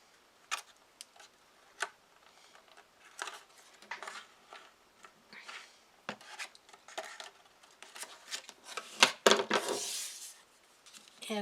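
Scissors snip through a paper card piece with faint, irregular crisp cuts and rustles, building to a louder crinkle of paper near the end, close up and quiet.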